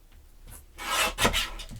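Craft paper for a mini album being trimmed, a short rasping, scraping cut of about a second that swells and fades, close and fairly quiet with no talking.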